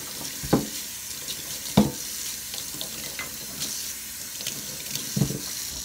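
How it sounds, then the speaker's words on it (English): Fresh broccoli on the stalk rinsed under a running kitchen tap, a steady close hiss of flowing water broken by a few louder splashing bursts as the florets are turned in the stream. "I'm gonna rinse it"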